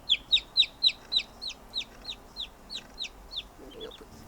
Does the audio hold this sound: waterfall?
no